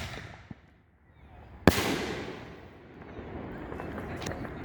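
A single loud firework blast from a backyard Fourth of July show cracks nearby, its rumble fading slowly over a few seconds after a faint earlier pop.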